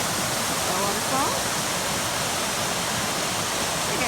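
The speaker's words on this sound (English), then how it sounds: "Ah, a waterfall." A waterfall along an overgrown wilderness trail in Temagami, a loud, steady roar of rushing water that fills the whole stretch without a break, with a faint voice murmuring beneath it.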